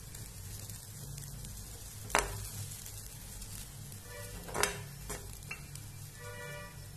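A spoon stirs mung dal prasad with fresh coriander in a pan after the gas is switched off. A few sharp scrapes and clinks stand out over a quiet, low background.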